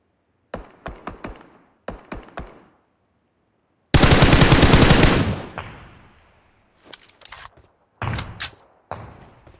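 Gunfire in the video game PUBG Mobile comes in short sharp bursts and single cracks, then one long loud automatic volley that fades into echo, followed by more scattered shots, without voices.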